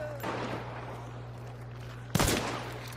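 Gunfire in the video game Hunt: Showdown: a single loud, sharp shot bursts out near the end over a steady low game hum, with a fainter earlier report near the start.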